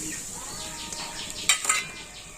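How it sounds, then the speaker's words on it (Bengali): Grated coconut tipped into a wok and stirred with a utensil, a few soft scraping clinks and rustles, two sharper metallic scrapes near the end, quiet and close with no talk. "আর কড়াতে আমি দিয়ে দিচ্ছি 1 বাটি নারকেল কুড়ো।"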